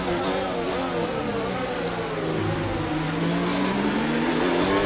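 Formula 1 car in the F1 2019 racing game at the Austrian Grand Prix, its engine screaming steadily at high revs with shifting pitch sweeps, loud and continuous with no talk.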